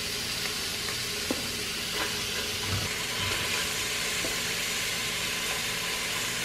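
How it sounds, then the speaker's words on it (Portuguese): Chicken pieces fry on a bed of sliced onions in a pan, a steady close sizzle and hiss that holds evenly throughout, with a few faint clinks and stirring sounds and no one talking. "aqui a gente vem colocando o frango por cima dessa cebola."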